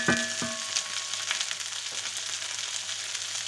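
Homemade paella cooking in a pan, a soft continuous sizzle with small crackles after a couple of brief clinks at the start, no voices.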